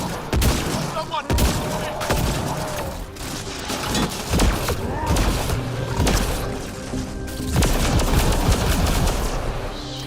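Gunfire in a Mass Effect Andromeda firefight, with dense, loud automatic bursts and single shots echoing over a rumbling mechanical background, continuous from start to end, with a voice briefly audible in the mix.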